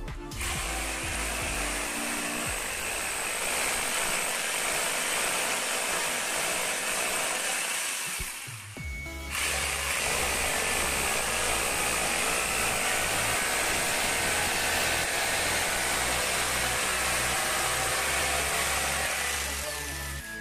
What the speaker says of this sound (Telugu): ఇలాగైతే మనం డ్రిల్ మిషన్తో ఇలా రెండు హోల్స్ వేసుకుని